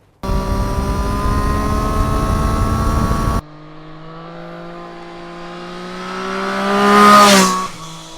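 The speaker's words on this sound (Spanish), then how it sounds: "Un bramido un sonar ronco al principio que se torna en bramido según vas subiendo por el cuentavueltas" A 2023 Triumph Street Triple 765 motorcycle engine revs, starting as a loud rough roar, then climbing steadily in pitch to a high wail before dropping off.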